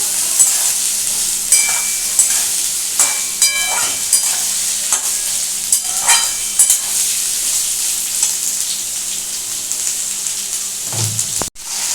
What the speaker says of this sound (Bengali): এই আলুটাকে এখন একটু আমি ভালো করে ভাজবো